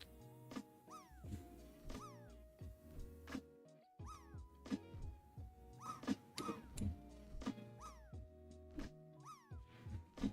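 A cat meows repeatedly and insistently, a string of close, clear mews with rising and falling pitch, pausing briefly around four seconds before continuing, with no talk over it.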